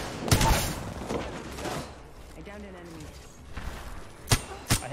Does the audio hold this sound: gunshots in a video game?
yes